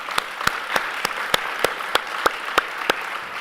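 Sparse applause at a Tourism WA industry event, about a dozen separate claps spaced at a steady beat, fairly close and moderately loud, with no talking over it.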